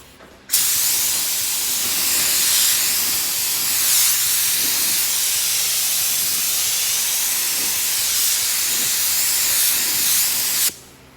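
A spray gun lays a blend coat of paint over a fiberglass repair, a loud steady hiss that starts abruptly, holds for about ten seconds with slight swells, then cuts off.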